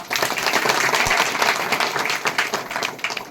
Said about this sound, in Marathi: बालचंद्र शिर्के साहेबांसाठी आपण जोरात टाळ्या वाजवणार आहोत